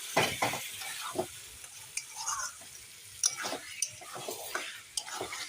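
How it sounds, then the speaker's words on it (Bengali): Chicken pieces being stirred and fried in a wok for biryani, with a steady sizzle under repeated scraping and clattering strokes of a spatula, close and moderately loud, no talk. "এখন ভালো করে নেড়ে দেব চিকেন তো দেওয়া হয়ে গেছে"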